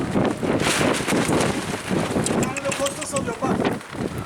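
Strong wind buffets the microphone in gusty, rumbling bursts, with voices faintly audible underneath.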